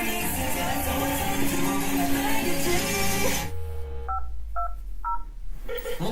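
Telephone dialing tones sounding as part of a K-pop song, a short run of three or four distinct beeps after the dense music drops away to a sparse passage.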